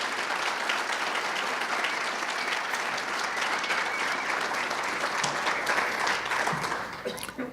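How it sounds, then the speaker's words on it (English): A roomful of people at a Jaycees award ceremony gives past recipients a sustained, dense round of applause, loud and steady throughout before thinning slightly at the very end. "I would ask you to give them all a great round of applause."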